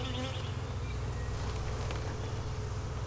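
Dense, steady buzzing of many honeybees swarming close around a hive, a continuous insect drone with no talking.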